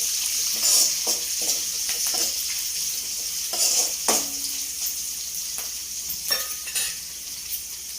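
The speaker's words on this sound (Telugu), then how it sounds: "తాలింపులో ఒక 4 వేసుకుందాము ఎల్లుల్లిపాయలు" Four garlic cloves sizzle in hot oil for a tempering, a loud continuous crackling fry punctuated by several stirring clinks and utensil taps, close up and without talk.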